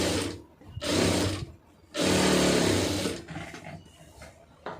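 A sewing machine stitches a blouse lining in two long, loud, whirring bursts of rapid needle clatter, separated by quieter pauses, with softer machine sounds near the end.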